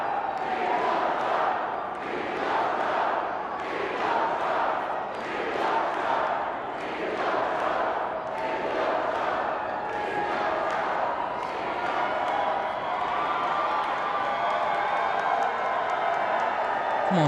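A large crowd screams and cheers in loud, rhythmic waves of chanting and roaring that keep going without a break, ending in sustained noise.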